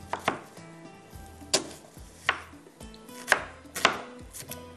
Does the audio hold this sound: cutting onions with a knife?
yes